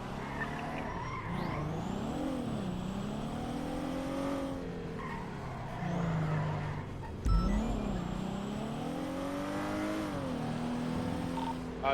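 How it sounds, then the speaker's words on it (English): A car engine in GTA V NoPixel roleplay drones and wavers with sweeping pitch rises and falls, along with tire squeal, a sharp thump midway and faint background noise, without talking. "I hear the engine stalling."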